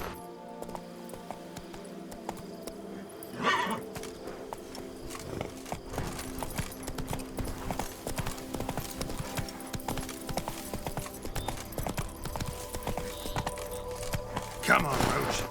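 Roach the horse galloping in The Witcher 3: Blood and Wine, with a quick rhythmic clip-clop of hooves running steadily through the passage, accompanied by game music and a few louder bursts.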